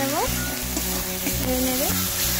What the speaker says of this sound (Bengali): এবারে আমি আদা বাটাটা দিয়ে দিচ্ছি। আমি এটাকে ভালো করে কষে নেব